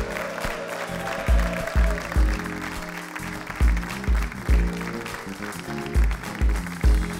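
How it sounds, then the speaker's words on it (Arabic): Studio audience applause on an Algerian TV show welcoming a world Muay Thai champion, clapping under a loud rhythmic music track with heavy, evenly spaced bass thumps throughout. "نرحب سويا بهشام مجتهد راهو حاضر معنا تحت تصفيقات الجمهور"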